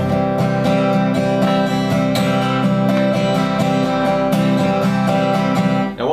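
Steady guitar strumming in a rolling triplet feel, bright chords struck repeatedly with crisp attacks, close and continuous.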